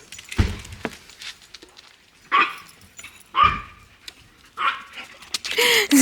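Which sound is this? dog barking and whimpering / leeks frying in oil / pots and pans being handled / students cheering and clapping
dog barking and whimpering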